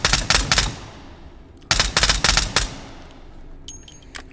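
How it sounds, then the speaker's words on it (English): A suppressed intermediate rifle in the VR shooter H3VR fires two quick bursts of muffled rapid shots, each followed by a trailing mechanical tail, with a brief pause between them. "This is our suppressed intermediate rifle."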